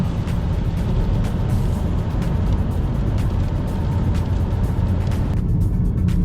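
A 2013 Vauxhall Astra J SRi 1.4 engine roars steadily and loudly throughout, a continuous rumbling drone with no pauses, while driving in rain.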